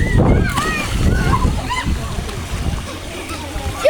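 A girl jumps into a swimming pool with a loud splash of water near the start, followed by sloshing and lively children's voices talking over it.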